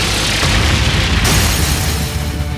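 Booming fire-art explosion from a turn-based battle in Trails of Cold Steel III, a loud, dense roar that swells and holds for a couple of seconds with a brighter crackling burst midway, no voices over it.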